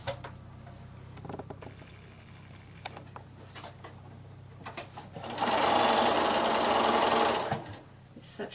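A sewing machine runs while four-patch quilt units are joined into a block. It gives short bursts of stitching, then a louder sustained run of several seconds, close to the microphone, with light handling sounds between.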